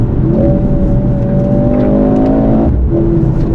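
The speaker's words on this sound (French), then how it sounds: "Au passage de vitesse, je sais pas si vous l'entendez, on a une petite déflagration." A 2024 Mercedes-AMG C63 S accelerates hard with a loud, close engine note that climbs steadily, then a brief dull boom at the gear shift before the tone resumes lower.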